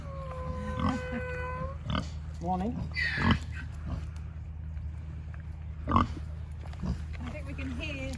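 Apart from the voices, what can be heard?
pigs grunting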